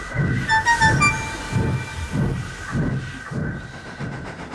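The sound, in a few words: toy steam engine train running into station platform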